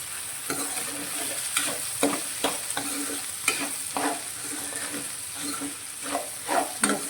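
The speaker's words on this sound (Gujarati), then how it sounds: "શાકને આપણે સારી રીતે મિક્સ કરીશું" A spoon stirs spicy kankoda (spiny gourd) curry with turmeric and spices in a pan, giving repeated scraping clinks over a soft, continuous sizzle, close and moderately loud.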